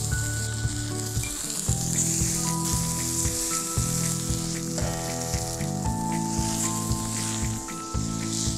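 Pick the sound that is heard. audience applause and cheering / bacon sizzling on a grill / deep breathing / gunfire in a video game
bacon sizzling on a grill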